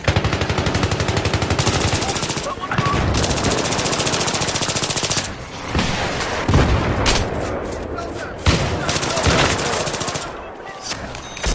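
Battlefield 3 Close Quarters combat on Operation 925 with sustained loud automatic gunfire, rapid dense bursts punctuated by heavier blasts and short pauses, close and continuous throughout.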